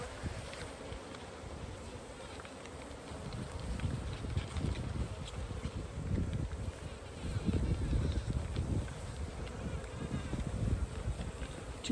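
Honey bees dusted in powdered sugar during a varroa count buzz around their hive, a dense steady hum close by, with wind rumbling against the microphone in gusts.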